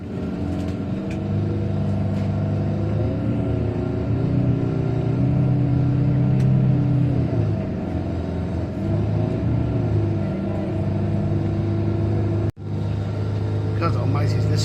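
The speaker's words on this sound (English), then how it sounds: "this is such a rattly old bus." An old rattly bus engine runs at a steady low rumble from inside the cabin, droning loudly and continuously with slight shifts in pitch and a brief dropout near the end.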